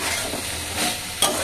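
Vegetables frying for a vegetarian thali dish give a steady, close broadband sizzle with the soft scrape of stirring, ending in a sharper clink near the end.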